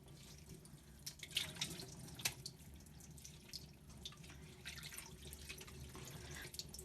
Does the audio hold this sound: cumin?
no